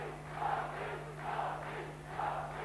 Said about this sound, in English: His every blow being cheered to the echo